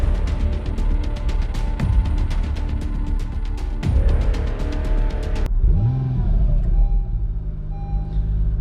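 A new Acura NSX hybrid sports car starts up, its engine catching with a sudden drop in the surrounding noise to a steady low idle hum, close by and moderately loud.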